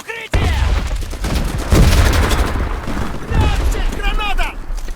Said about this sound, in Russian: Граната! В укрытие!